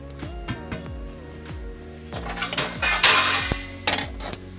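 Garam masala spices dry-roasting in a pan over a low gas flame for Malvani chicken rassa, heard as clinks and scrapes of a utensil against the metal pan, with a brief louder scraping burst partway through.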